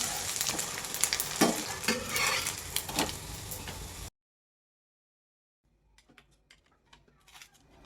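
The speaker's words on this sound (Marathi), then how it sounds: "पुन्हा एकदा आपल्याला फुल गॅसवरती फ्राय करून घ्यायची" Mashed potato tikki frying on full heat in a pan, steady close sizzle with stirring scrapes for about four seconds, then silence and a fainter sizzle returning.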